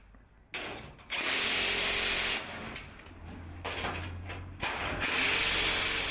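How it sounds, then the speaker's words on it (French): Screws driven home with a power tool while assembling a GEObox Standard pellet storage box: a few loud bursts of drill whirring and ratcheting separated by short pauses, close by, with no voices. "Assemblez maintenant tous les éléments avec les vis jointes et serrez toutes les vis au cône"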